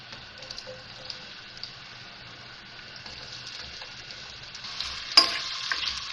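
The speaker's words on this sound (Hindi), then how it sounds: "फ्राई करेंगे इसको" Sliced onions, three medium ones, fry and are stirred in hot oil in a home kitchen, giving a low steady sizzle with soft scraping and a few louder clatters near the end.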